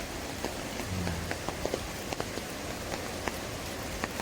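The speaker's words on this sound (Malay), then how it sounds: "Hujan rintik-rintik hari ini." Light drizzle at the Ali River Campsite in Kerling makes a soft, steady patter on nearby surfaces, with scattered individual drops ticking close by and no talking.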